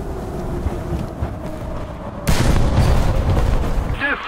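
Artillery fire in War Thunder ground battle gameplay: rumbling, windy background gives way to a single heavy, close boom midway that sustains a loud roar, followed by a fainter whistling tail.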